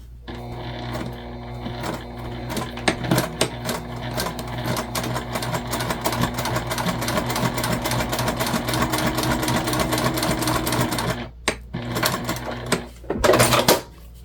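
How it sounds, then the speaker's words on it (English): A sewing machine runs steadily, basting together the fabric sides of a mini backpack, with a close, continuous mechanical whir and rapid needle chatter that stops briefly near the end, then restarts in a short burst. "we're just gonna go ahead and baste these sides together here"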